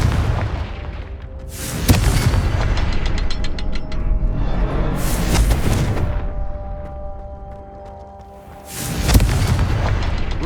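Fire-blast spell explosions in the video game Hogwarts Legacy, three heavy booming blasts spaced a few seconds apart, each with a sharp crack and rumbling decay over a low game ambience.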